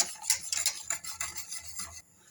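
A spoon scrapes and stirs thickening profiterole cream in a pot on the stove, a quick run of soft rubbing and clinking strokes that stops abruptly.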